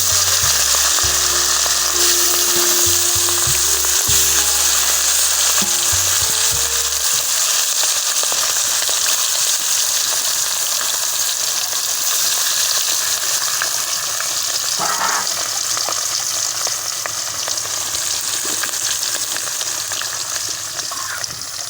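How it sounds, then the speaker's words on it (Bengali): Fish sizzles loudly and steadily in hot oil in a home kitchen pan, with a few low knocks early on as the fish settles. The crackle continues unbroken, with no voices. "এই যে আপুরা মাছ ছেড়ে দিলাম"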